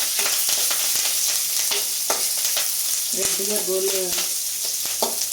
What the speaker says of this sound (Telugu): ఇప్పుడు వీటిని బాగా ఫ్రై చేసుకోవాలి.